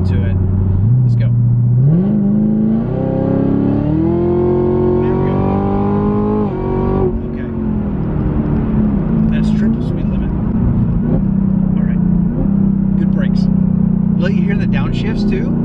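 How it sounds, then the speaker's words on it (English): A Camaro ZL1 with a Corsa exhaust accelerates from a 55 mph roll, its loud, throaty exhaust climbing through the gears with a supercharger whine and an audible upshift. The engine then settles to a steady drone while someone talks over it. "I want you to be able to hear the blower whine in conjunction with the exhaust"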